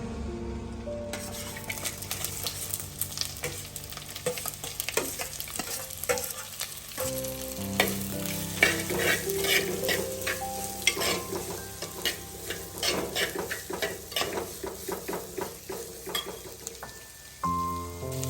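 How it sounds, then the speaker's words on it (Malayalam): Sliced small onions frying in hot butter in a pan, a steady loud sizzle with repeated stirring scrapes and clinks throughout, heard alone with no talk. "ബട്ടർ ചൂടായി വന്നിട്ടുണ്ട്. ഇനി അതിനകത്തോട്ട് നമുക്ക് 3 ചെറിയ സവാള നമ്മൾ സ്ലൈസ് ചെയ്ത് വെച്ചിട്ടുണ്ട്."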